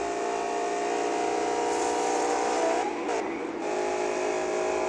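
BMW M6 engine racing in the Asphalt 8 video game, a loud continuous high-revving drone with a brief gear shift and pitch dip near the end.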